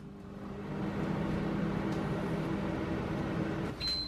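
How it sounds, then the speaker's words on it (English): A microwave oven hums steadily while heating a plate of food, a low even drone close by that runs for several seconds and ends with a sharp high beep. "I'm just gonna microwave it for 2 minutes"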